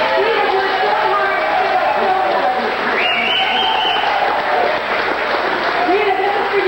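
A reunion crowd gives a big round of applause for two women, loud continuous clapping mixed with cheering and chatter, close and energetic throughout, with voices rising over the clapping now and then.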